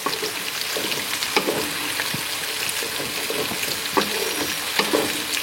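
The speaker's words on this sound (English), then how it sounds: "And just gonna deglaze that pan right now." A pan of long-cooked fennel is deglazed and hisses with a loud, steady sizzle close by, broken by occasional soft stirring scrapes.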